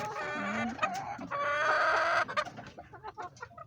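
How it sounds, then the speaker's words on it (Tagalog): Chickens cluck and squawk close by, several birds calling over one another in a busy, continuous burst. "daghan din akong manok guys"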